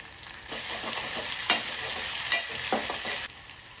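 Onion, garlic and tomato sizzling in a hot pan while a spoon stirs them, a steady frying hiss with occasional scraping strokes that starts abruptly and cuts off after about three seconds.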